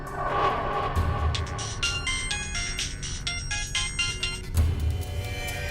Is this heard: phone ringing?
yes